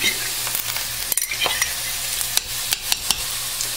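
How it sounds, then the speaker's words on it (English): Coconut milk, liquid and spices are stirred together in a bowl, with soft sloshing and scattered sharp taps of a utensil against the sides, close and without talk. "so now we're going to mix all the liquid and spices together"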